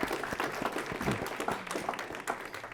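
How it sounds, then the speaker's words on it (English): A small school board meeting audience claps after a video, a thin scatter of distinct individual hand claps at moderate distance, fairly quiet and uneven. "Round of applause for the video."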